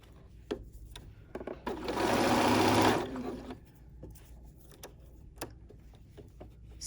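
Sewing machine stitching through a fur infinity scarf with the fur on top, one sustained whirring burst of about a second and a half, framed by scattered clicks and handling noises.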